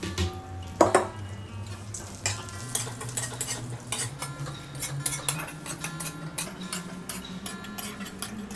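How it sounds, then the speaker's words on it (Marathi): Almond pieces frying in ghee for rava ladoo, with a soft continuous sizzle under repeated scraping and clinking of a spoon against the pan, including one sharp knock early on. "परत थोडंसं तूप घालू आणि बदामाचे तुकडे आपण थोडेसे तळून घेऊ"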